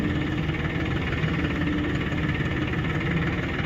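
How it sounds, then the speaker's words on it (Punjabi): A tractor engine, a 475 model, hauls a 20-foot trolley loaded with sugarcane, giving a steady low diesel drone that stays close and continuous with no break. "ਆ ਟਰਾਲੀ ਜਾਂਦੀ ਆਪਣੇ ਵਾਲੀ ਮੂਰੇ ਗਰਿੰਦਰ ਚਲਾਉਂਦਾ"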